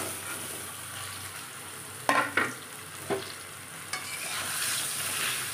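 Mango pieces for pickle frying in a wok-style kadai with panch phoron and turmeric, a constant close sizzle punctuated by a few sharp stirring scrapes, no voices.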